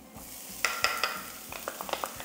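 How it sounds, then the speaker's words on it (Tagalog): Chopped garlic sautéing in cooking oil that is still heating in a pan for pork kaldereta, a soft sizzle with a handful of sharp utensil taps and scrapes against the pan, close by, with no voices. "Unti-untiin lang natin itong igisa habang papainit pa lang yung mantika"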